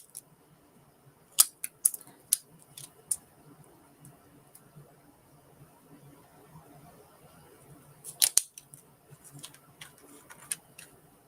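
Scissors snipping through paper during a craft project cutting out planetary rings, a few sharp close snips in two short bursts separated by a quiet stretch with faint room noise.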